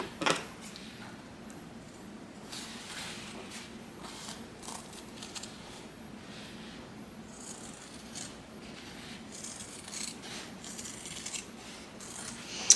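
Scissors snip through fabric while trimming the edges of a classic clutch, a series of soft, close cuts and rustles spread across a quiet workspace, with an occasional louder clip.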